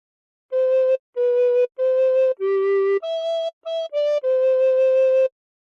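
Recorder playing the opening phrase of God Defend New Zealand, eight clean held notes with short gaps, mid and higher pitches mixed, clear and close with no other sound.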